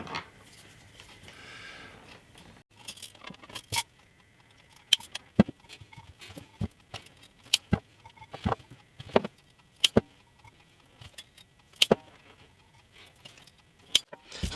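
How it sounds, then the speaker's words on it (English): Guitar fret wire being cut with cutters, sharp isolated snips and clicks arriving irregularly over a quiet room background, fairly close and crisp. "first thing I'm going to do is cut some frets"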